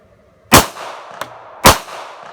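Two sharp, loud pistol shots from a Smith & Wesson Shield handgun fired at a range, about a second apart, with a fainter click between them.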